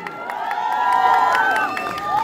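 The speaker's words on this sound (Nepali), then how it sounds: "लिपस्टिक गोलाई अनि शान्ति जस्तो मुभी डिरेक्ट गर्ने विवेक राईको लागि जोरदार ताली" A crowd cheers and shouts loudly for film director Vivek Rai at a promotional event in Kurseong, with high excited voices whooping in a sustained burst.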